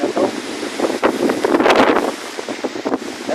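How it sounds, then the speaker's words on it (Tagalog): Strong typhoon wind during a storm in Pampanga, Philippines, buffeting the microphone in loud, irregular gusts with roaring surges, no talking. "Grabe yung lakas ng hangin na to."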